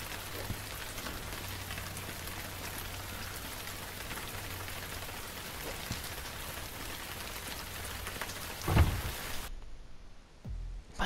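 Rain falls steadily in the video game RainCity, a continuous even patter on surfaces that runs for several seconds before cutting out near the end, with no talking.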